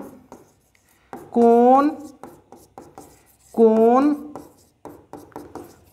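Marker or chalk strokes on a board during a Class 10 geometry lesson on triangles: short scratchy bursts between phrases, with someone talking over and between them.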